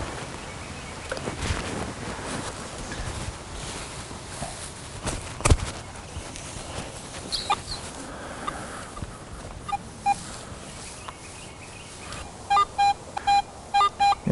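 Outdoor rustling and scattered footsteps, then a series of short, evenly spaced electronic beeps from a Garrett metal detector signaling a target, repeating toward the end.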